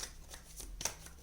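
Tarot cards being shuffled in the hands, a brief close riffle of soft card flicks ending in a crisp snap as the deck is handled.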